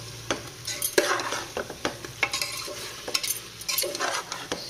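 Chicken with biryani masala, chicken masala and garam masala sautéed over slow-medium heat in a pressure cooker, with steady sizzling and frying and repeated scraping stirs of a spoon against the pot, close up.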